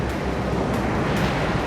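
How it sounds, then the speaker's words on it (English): Giant tsunami waves crash in a steady, dense roar of surging water and wind noise, loud and continuous throughout, with no voices. "The giant waves take over everything."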